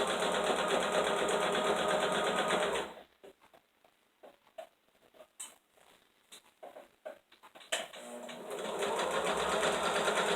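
A sewing machine stitches a fabric draft stopper in fast, loud, continuous runs, pauses for a few seconds of quiet clicks and handling while the fabric is pivoted with the needle down, then resumes steady stitching.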